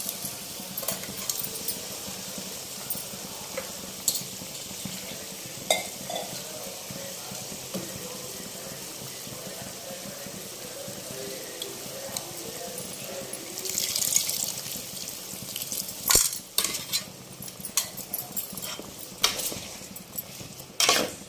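Egg thokku being stirred with salt and tamarind water: wet, splashy mixing and scraping in a pan, with a brief burst of liquid sloshing midway and sharp utensil clinks toward the end, no talking.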